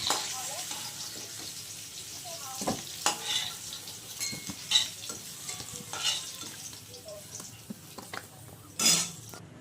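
Potatoes fry in hot mustard oil, a soft steady sizzle broken by occasional clinks and scrapes of a spatula against the pan.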